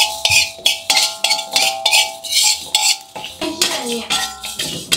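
Cumin, candlenut and coriander dry-roasting in a pan, heard as repeated sharp metallic clinks and scrapes of a utensil against the pan in a steady rhythm, loud and close, with no talking.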